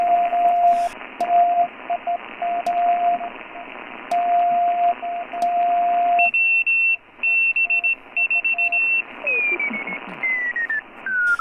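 An incoming CW Morse signal sounds on a Ten-Tec Jupiter radio: a keyed tone beeping in dots and dashes over band hiss. Partway through, a higher steady spotting tone comes in, and a tone glides downward as the receiver is tuned.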